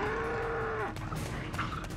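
A wounded water buffalo moos on open grassland, one long drawn-out low call that falls off at the end, followed by fainter animal sounds.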